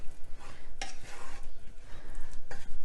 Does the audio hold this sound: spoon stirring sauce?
yes